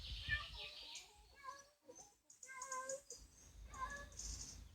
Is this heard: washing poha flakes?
no